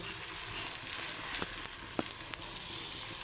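Rice and lentils tipped into a hot pan with ginger for khichuri, giving a steady broad sizzle with a few sharp crackles and pops, fairly close and without talk.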